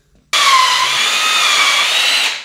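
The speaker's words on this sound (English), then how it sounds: "And I am pre-drilling everything so I don't split this wood." A power drill bores pilot holes into wood for a hidden-door bookcase: one steady, loud, high whine starts abruptly, holds for about two seconds, then winds down, alone and close.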